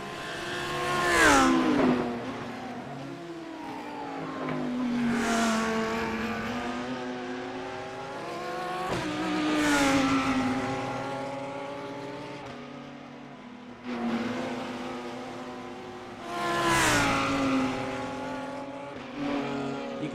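Race cars lapping Bathurst in a sim racing game, including a Lamborghini and a BMW in a GT challenge, engines revving and shifting loudly through gears in repeated rising sweeps as cars pass close by, with tires squealing.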